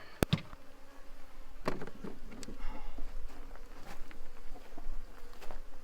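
Honey bees hum in a low, steady drone close by in an Apimaye hive with a rapid round feeder, with a few sharp knocks and taps of equipment.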